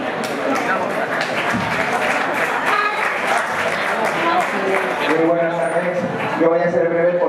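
An audience applauds at a jota gala of a regional cultural centre, a steady wash of clapping that runs throughout while a singing or speaking voice carries over it toward the end.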